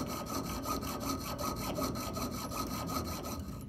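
A hand saw cutting through wood in steady, even back-and-forth strokes, a continuous rasping rhythm heard close up without speech.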